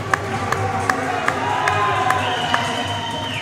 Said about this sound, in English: Waiting for the applause.